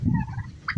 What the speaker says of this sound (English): Them turkeys are really growing pretty good.